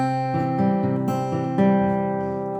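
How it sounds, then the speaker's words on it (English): A guitar fingerpicking pattern cycles through ringing notes at an even pace, clear and close with no voices. "So one complete cycle of this picking pattern should simply sound like this."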